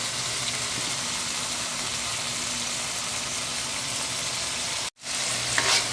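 String beans and small shrimp sizzle steadily in a covered pan, loud and close, with a brief dropout near the end before the frying noise resumes.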